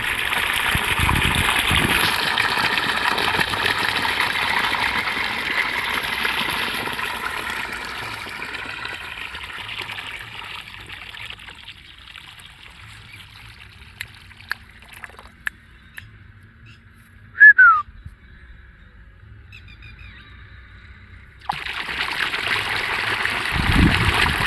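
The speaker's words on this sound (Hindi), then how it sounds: "ये पानी भी 3 बोरवेल का होके है।" Irrigation water from three borewells gushes steadily across a wheat field, a loud continuous rushing flow that quiets to faint trickles and drips midway before the strong gush returns.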